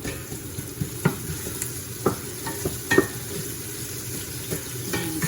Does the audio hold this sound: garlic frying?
yes